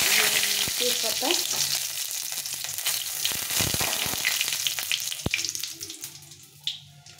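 Panch phoron spices, two dried red chillies and a bay leaf frying in oil for a vegetarian vegetable dish: a close, crackling sizzle with a few sharp pops and light utensil clicks, easing and fading toward the end.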